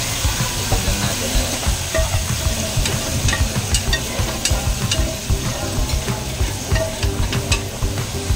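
Goat kaldereta being stirred in a frying pan: a steady sizzle with repeated scraping and clinking of a utensil against the pan, close and lively.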